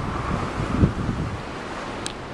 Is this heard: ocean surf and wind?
yes